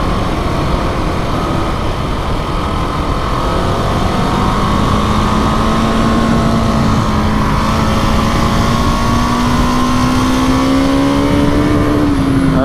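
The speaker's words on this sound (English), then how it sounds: "There's the rev limiter." A KTM 701 Enduro motorcycle engine roars loud and close as it climbs steadily in pitch, then holds at the rev limiter with a strained, buzzing drone under heavy wind noise.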